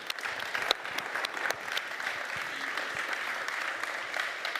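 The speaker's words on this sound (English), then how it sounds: "Let's give Nikhil and Nathan a round of applause" Steady, fairly distant applause from a conference audience at Codegarden 2022, sharp individual claps standing out over a continuous clapping wash, with faint voices underneath.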